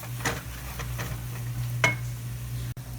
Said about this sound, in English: And then just give it a good mix.